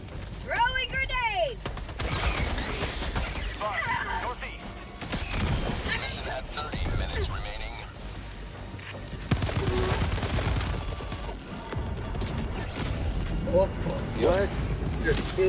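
Gunfire and a grenade blast crack and boom through a Helldivers 2 firefight, dense and loud, with shouting voices over the bursts.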